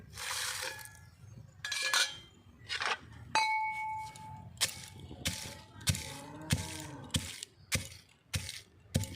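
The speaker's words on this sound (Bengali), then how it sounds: "মশলাগুলো আমি হামানদিস্তায় গুঁড়ো করে নেব লঙ্কাগুলো একসাথে গুঁড়ো করে নেব" Spices and chillies pounded in a mortar and pestle, a series of sharp, clinking strikes in an irregular rhythm, fairly close and distinct, with short pauses between the hits.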